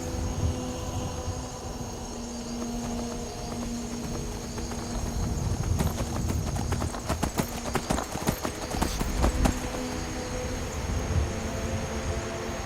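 Hooves of the horse Shadowmere clip-clopping at a steady riding pace in the video game Skyrim on PC, with a constant hum of ambient game music and a louder, busier burst of hoofbeats in the middle.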